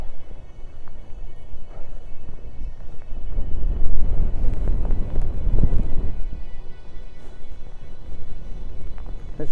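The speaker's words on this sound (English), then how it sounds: "Whoa, it's windy." Strong outdoor wind buffets the microphone in cold, rainy weather, a continuous low roar that swells into heavier gusts in the middle, with no speech.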